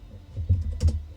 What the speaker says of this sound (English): I'm typing 0 there